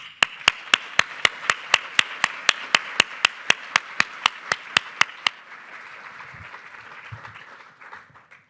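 An audience at a Canadian Club morning event applauds panelists walking onto the stage: a steady wash of crowd clapping with one loud, evenly timed clapper close by for about five seconds, then the applause thins and fades away, with no talking.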